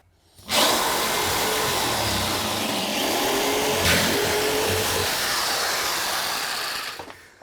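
A $25 Black & Decker jigsaw cuts through a bathroom floor, a loud, steady buzzing whine running almost without a break from start to finish, close up and with no voices.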